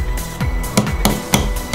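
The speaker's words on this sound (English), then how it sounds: "So from there, grab your hammer" A hammer strikes a Carbon Off Road hammerlock pin being driven into place, four sharp metallic blows at an even pace, close and loud with no talking.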